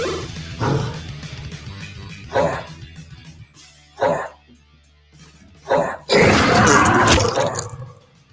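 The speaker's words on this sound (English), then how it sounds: "My dog at 3 a.m. when he has something he shouldn't have." A dog barks in short separate bursts at night, close and loud, with a longer rough barking stretch near the end.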